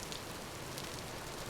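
Rain in the video game Vintage Story, a steady even hiss of falling rain on surfaces with faint scattered drops, quiet and continuous with no voices.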